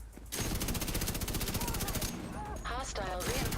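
Video game gun firing a rapid sustained burst of automatic rounds, loud and close, then briefly breaking off before more firing mixed with other game sounds.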